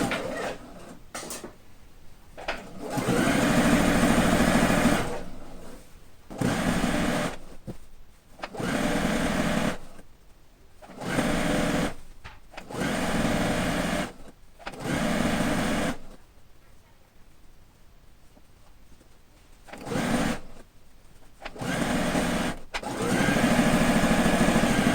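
Sewing machine stitching a patchwork quilt coat in repeated bursts of steady whirring, each a second or few long, separated by short pauses, loud and close with no talk.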